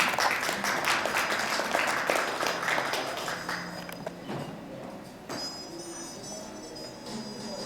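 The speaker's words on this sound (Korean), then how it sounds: "박수 부탁드리겠습니다." Audience applause at a Korean IT solutions fair session, dense steady clapping that fills the room, then thins and fades as the next presenter is welcomed.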